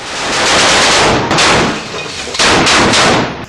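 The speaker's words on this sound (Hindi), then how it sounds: "एक लड़ाका मशीन गन से आईडीएफ के ऊपर ताबड़तोड़ फायरिंग करने लगता है" A machine gun fires in rapid, loud, sustained bursts during combat in the Jabalia camp in Gaza, the dense rattling blurring into a near-continuous roar with a brief lull midway.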